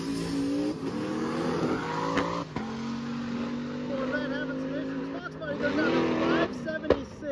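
A Corvette drag racer having problems at a drag strip, engine revving and droning unevenly with pitch rising and falling, a sharp burst near the end, while an announcer talks over it.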